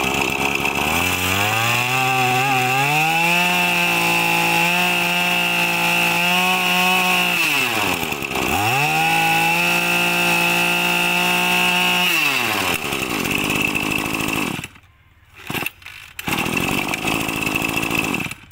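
A Hitachi R6 two-stroke engine, 23cc with a 32 mm bore, runs loud and close with a buzzing drone. It dips and climbs in revs twice, then cuts out briefly before picking back up.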